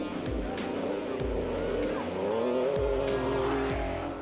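A Jägermeister Porsche rally car on East African Safari Classic Rally roads revs hard, its engine note rising and falling through gear changes with tyre squeal and gravelly road noise, loud and continuous throughout.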